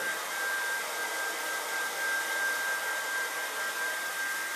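A hair dryer blows steadily and close, a constant airy roar with a thin high whine running through it and no voices.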